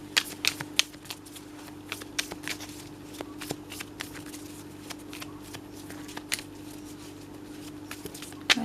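Tarot cards being shuffled by hand, a run of soft papery riffles and flicks with sharper snaps scattered through, close and fairly quiet over a steady low hum.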